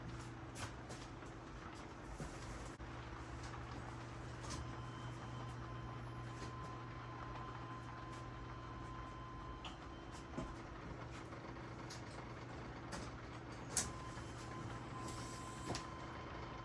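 A 1987 Buick Turbo Regal's electric fuel pump primes with a steady, even mechanical hum and faint whine that runs unbroken for the whole stretch, with a few small ticks and no talking.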